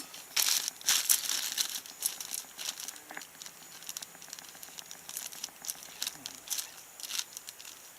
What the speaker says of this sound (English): Let me get some air out of the bag, I can write better.